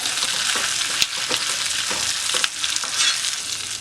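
Curry leaves sizzle and crackle in hot oil in a pan, a continuous bright frying hiss with a few sharp pops and stirring scrapes.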